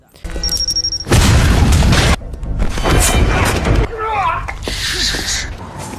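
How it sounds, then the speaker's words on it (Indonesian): A small ball exploding in a film scene: sudden loud booming bursts with heavy low rumble, several blasts in succession followed by lingering noise and brief chirping sounds, under and between narration. "tiba-tiba ada sebuah bola kecil yang meledak"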